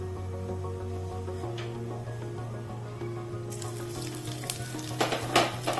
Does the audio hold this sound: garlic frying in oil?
yes